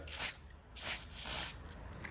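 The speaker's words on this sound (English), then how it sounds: "just grab some silicone spray" Three short hissing bursts from a silicone spray aerosol can, close and fairly quiet, evenly spaced with brief pauses between, lubricating a lawn edge trimmer's rubber O-ring.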